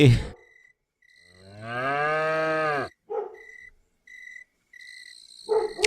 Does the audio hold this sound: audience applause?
no